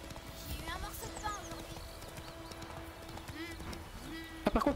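Hoofbeats of a horse clip-clop steadily in The Witcher 3 video game beneath other game sounds, with a voice briefly heard near the end.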